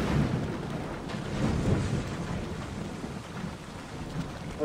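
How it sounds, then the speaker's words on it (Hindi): Steady rain with rolling thunder in the video game Assassin's Creed Odyssey, a continuous wash of rainfall under low rumbling swells, fairly loud and without talk. "बारिश भाई स्टैटिक फीलिंग दे रही है, बिजली भी कितना मजा ही कड़क रही है।"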